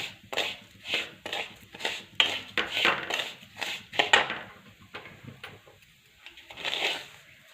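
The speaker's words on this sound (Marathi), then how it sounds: "भगर पण एक दोन मिनटं अशीच लाल होईपर्यंत आणि फुलेपर्यंत भाजून घेणार आहे" Barnyard millet being dry-roasted and stirred in a pan, a close series of dry scraping, rustling strokes in an irregular rhythm that fade toward the end, with no talk.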